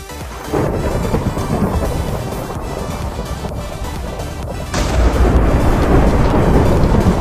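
Thunder in the Survival Games video game, a loud rumbling roar that swells partway through and continues heavily to the end, with no talk over it.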